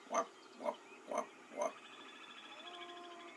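Four loud, honking ruddy shelduck calls ring out in an even rhythm, followed by quieter background birdsong and faint croaking of toads.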